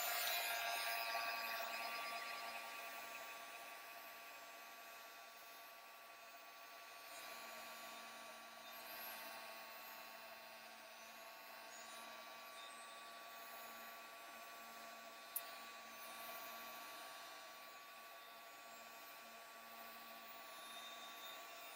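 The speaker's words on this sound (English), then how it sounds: "I'm going to go ahead and give this a quick dry so that it doesn't blend with my blue next" A heat tool blows steadily to dry ink on a mixed media cigar box cover, a continuous whirring hiss that holds at moderate level throughout with one brief tick partway.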